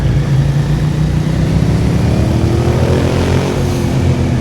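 Japanese V-twin superbike on the road with its engine revving as the throttle opens, a loud continuous low drone with rising pitch toward the end, dominating throughout.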